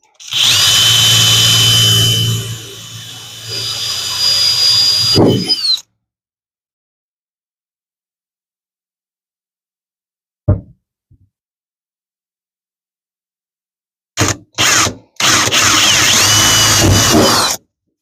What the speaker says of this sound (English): And drill it out with the 1/8